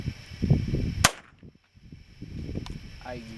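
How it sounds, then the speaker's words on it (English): A single sharp crack from a .22 caliber nail gun blank fired from a gun, loud and close with a brief decay, preceded and followed by low murmuring and handling noise. "Obviously, this is going to be a blank, people."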